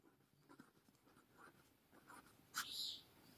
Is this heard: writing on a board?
yes